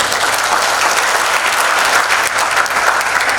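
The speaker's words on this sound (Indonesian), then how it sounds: "Tepuk tangan buat Tuhan." Loud, continuous audience applause fills the whole moment at a conference-style talk on the 2023 economic outlook in Indonesia, thick and even with no voices.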